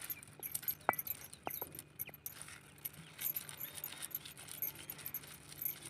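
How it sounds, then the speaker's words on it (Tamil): Onion, garlic and salt are ground on an ammi, a flat stone grinder, by rolling the stone back and forth. The result is a quiet, steady scraping and rubbing with a few faint knocks and clicks, close by and with no voices. "வாங்க இப்போ இதை நல்லா அம்மியில் அரைச்சி எடுத்துப்போம்."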